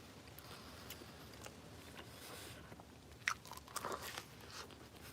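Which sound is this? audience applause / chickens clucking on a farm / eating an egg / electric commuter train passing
eating an egg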